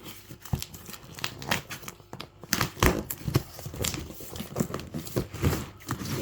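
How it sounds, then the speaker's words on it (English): Taped cardboard parcel box being opened, with close irregular crinkling, tearing and rustling of tape and packaging in uneven bursts. "Get this tape open."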